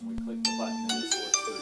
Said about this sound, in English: I apologize for the phone ringing there.